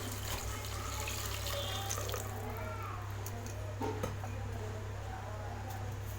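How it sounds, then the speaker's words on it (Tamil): Water pours steadily into a pressure cooker for several seconds, a soft continuous splashing under a low background hum. "4 கப் தண்ணி ஊற்றுறேன்."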